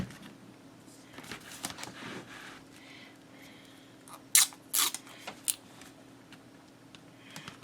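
Scissors cutting washi tape for a straight edge on a paper craft folio, a few short crisp snips in quick succession over a quiet room with a faint low hum.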